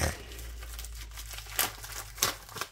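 Crinkling and tearing of packaging as the last parcel from a diamond painting order is opened, soft rustling with a few sharper crackles near the end, close and fairly quiet, with no talking.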